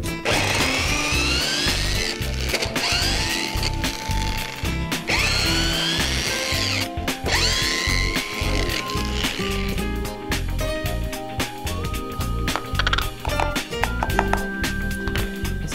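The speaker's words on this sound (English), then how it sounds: "samljati u blenderu" A kitchen blender grinds onion, celery, carrot and garlic for a minestrone base, running loud and close in repeated whirring surges with chopping clatter as the vegetables break down.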